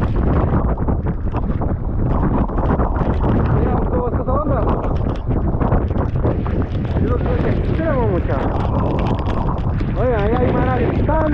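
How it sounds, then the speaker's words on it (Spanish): Strong, hurricane-like gusting wind batters the microphone on a boat by an island in Guatemala, a loud continuous roar with flutter. Voices shout and talk over it throughout. "nos agarró un aire, pero así huracanado"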